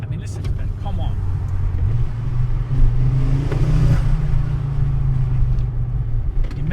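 A 2009 Ford Focus RS engine revs under hard acceleration while driving, a loud, steady in-cabin rumble that climbs in pitch and carries under a person talking.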